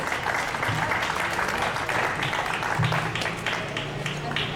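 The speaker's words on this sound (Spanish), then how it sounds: "Un fuerte aplauso para Eduardo y adelante." An audience at a tribute event in Madrid breaks into sustained, dense applause: many hands clapping steadily and fairly close, with some voices mixed in under the clapping.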